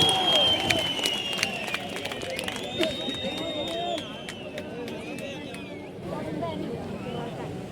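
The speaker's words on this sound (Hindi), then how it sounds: "जोरदार तालियों से स्वागत करें दोस्तों, माननीय प्रधानमंत्री श्री नरेंद्र मोदी जी" An audience keeps up steady, fairly loud applause with crowd noise at a public rally in Chamba for Prime Minister Narendra Modi, the clapping holding across the whole stretch.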